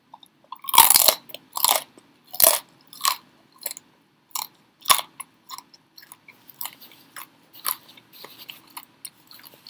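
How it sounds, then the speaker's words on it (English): Crispy air-fried pork belly being bitten and chewed up close, a loud first crunch followed by a steady series of sharp crackling chews that gradually soften and fade, with no talking. "So I'm gonna eat that right now"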